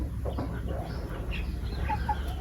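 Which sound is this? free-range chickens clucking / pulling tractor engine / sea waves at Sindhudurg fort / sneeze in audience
free-range chickens clucking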